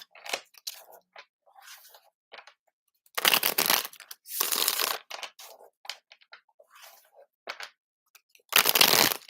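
Crisp riffling bursts of a card deck being shuffled, several rapid flutters separated by quieter handling and light tapping.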